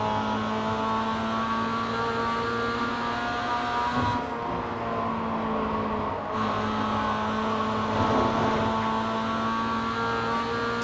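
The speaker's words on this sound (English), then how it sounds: "So I go nice and wide mid-corner there, so I can get back on the throttle early." Mazda MX-5 race car in iRacing at Summit Point, its engine droning steadily and pulling hard under throttle out of a corner, loud and continuous throughout with no talk.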